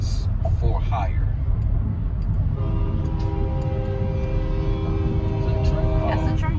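A train rumbles past close by, a continuous low roar with rising rail and wheel tones that builds over several seconds. A road vehicle interior or roadside setting, with an ongoing heavy rumble throughout.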